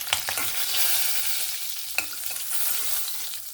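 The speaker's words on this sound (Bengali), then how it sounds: "একটু ভালো করে লাল লাল করে ভেজে নেব ডিমগুলোকে" Eggs fry in hot oil in a pan, a continuous bright sizzle with a few sharp spatula scrapes and clicks, close and steady with no talking.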